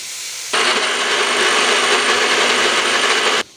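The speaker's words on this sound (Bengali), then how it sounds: "এখানে রসুন বেটে নিলাম" Garlic being ground into a paste by an electric grinder in a home kitchen, a steady loud whirring motor roar starting abruptly, running for about three seconds and cutting off sharply, with no talking.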